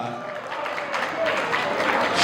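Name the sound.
audience applause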